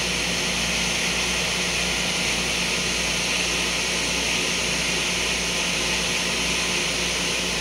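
A ship's main engine turbocharger runs in the engine room as a loud, dense, steady roar and high whine that continues unbroken throughout, with no voices.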